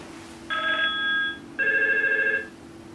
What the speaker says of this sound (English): It will now ring and dial all the handsets in the office and everyone's mobile.